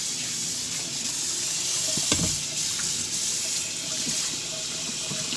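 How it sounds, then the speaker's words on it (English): Tap water rushes steadily through the auger of a Tribest Slowstar juicer, a close, continuous splashing rinse with a brief clunk midway. "I'm just going to run some water down through the auger."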